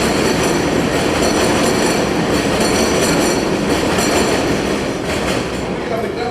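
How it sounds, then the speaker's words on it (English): A train passes close by during an outdoor community meeting in Medina, a loud continuous rumble and rattle of railcars filling the whole clip with steady intensity, while voices are faintly present underneath. "Don't overtalk the train."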